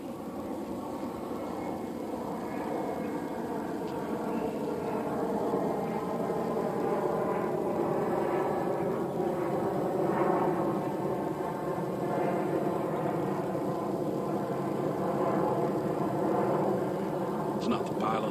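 An airplane passes near San Jose airport above a bayside nature preserve, a faint, steady, distant broadband roar that lingers throughout.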